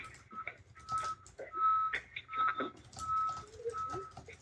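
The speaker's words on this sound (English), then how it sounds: "watch for that truck that's backing up first" A backing truck sounds repeated reversing beeps in a steady intermittent rhythm, fairly close, with some background rumble and faint bird calls.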